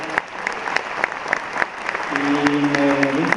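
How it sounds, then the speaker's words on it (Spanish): An audience at a conference applauds with scattered, crisp claps that build into fuller clapping, while a voice speaks in Spanish over the last part. "le damos un aplauso muy fuerte para agradecer su presentación"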